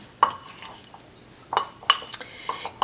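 A utensil mixes a brown sugar and flour topping in a bowl, giving a few sharp clinks and light scrapes against the dish at uneven intervals, close and fairly quiet.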